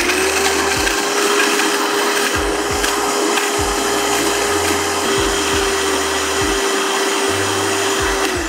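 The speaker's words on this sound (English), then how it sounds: "we are gonna blend this on high for about a minute until it is just fully incorporated" A blender runs on high, blending a macadamia nut mixture into a purée; a loud steady motor whir holds for the whole stretch, with no talking over it.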